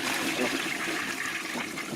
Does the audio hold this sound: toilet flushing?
yes